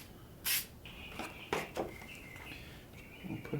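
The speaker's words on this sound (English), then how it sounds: "I'm going to use just a little whisper of spray adhesive here." Spray adhesive on a stencil, given in short hissy bursts, one sharp blast early and a few fainter puffs after, close and quiet, among other small sounds.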